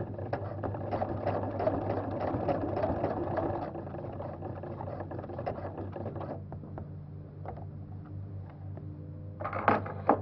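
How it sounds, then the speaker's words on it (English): A sewing machine stitches a baby bow blanket with a steady, close motor whir that runs loud for several seconds, then eases to a softer hum, ending in a short clatter. "I'll go ahead and do the first sewing here."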